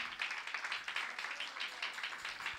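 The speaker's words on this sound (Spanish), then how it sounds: "Dale palmas ahí al Rey." A church congregation at a Spanish-language prayer and healing service claps steadily for the King, a dense, even patter of many hands heard from a moderate distance.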